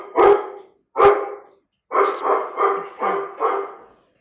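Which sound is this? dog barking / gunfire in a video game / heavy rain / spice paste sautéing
dog barking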